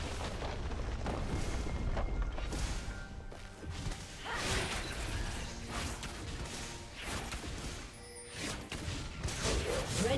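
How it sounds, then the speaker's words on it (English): A turret is destroyed in a League of Legends match, with booming explosions and whooshing ability effects in a dense, loud, continuous battle mix that swells and dips throughout. "Red team's turret has been destroyed."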